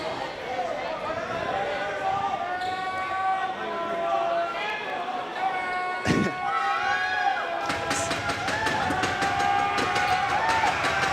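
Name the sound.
basketball home crowd getting loud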